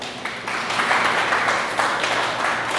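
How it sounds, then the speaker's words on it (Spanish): A congregation at a church service bursts into sustained applause, a dense, fairly loud wash of many hands clapping together without any speech over it. "Dale un aplauso a Dios"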